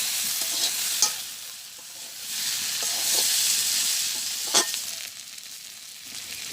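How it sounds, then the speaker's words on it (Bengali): Onions frying in a pan hiss steadily while a spoon stirs and scrapes through them in a village kitchen, with a couple of sharper knocks against the pan and no talking. "পেঁয়াজটা সুন্দর করে ভাজি হয়েছে, আমি এখন মিশিয়ে দিতেছি।"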